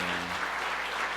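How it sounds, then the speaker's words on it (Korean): A church congregation applauds to welcome a new minister, a brief burst of dense, steady clapping filling the room from start to finish. "여러분 인사할 때 뜨거운 박수로 환영해 주세요"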